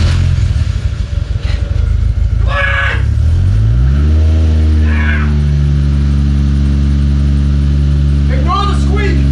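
Chevrolet Corvette C6 starting up in a garage and settling into a steady low idle, its worn belt tensioner giving a few short chirping squeaks, with someone talking over the engine.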